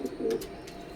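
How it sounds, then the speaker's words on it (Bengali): Imported Teddy breeder pigeons coo in a loft, a few soft low throaty pulses close by, with no voices. "বাদবাকি দেখেন কবুতরগুলা"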